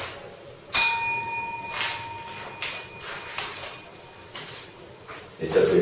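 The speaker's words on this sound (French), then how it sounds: "vous avez éventuellement une petite sonnette que vous pouvez faire sonner" A small bell rings once with a sharp, bright strike that decays over about a second, followed by quieter knocks and handling sounds, with a brief voice at the end.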